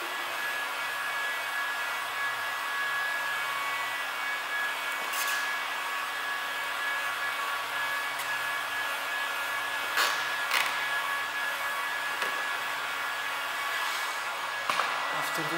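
A heat gun blows steadily on 3M vinyl wrap laid over a car side mirror, a constant airy whir held throughout, with a few faint clicks and handling taps near the end.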